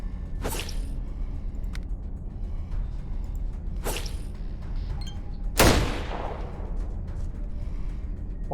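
Gunfire from the video game ATOM RPG: three separate sharp shots spaced a few seconds apart, the last the loudest, over a low steady background hum.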